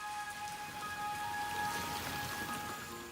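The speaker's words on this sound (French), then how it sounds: "La saison des pluies suit son cours et le Mékong déborde peu à peu." Steady rain falls during the rainy season in the Mekong delta, a dense, even hiss of drops with no voices and no thunder.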